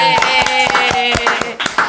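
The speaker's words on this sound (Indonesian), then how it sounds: "Penonton tepuk tangan dulu dong" Claps ring out from a small audience on request, about a dozen sharp hand slaps in an uneven rhythm, close and fairly loud, with a sustained musical tone and faint voices running underneath.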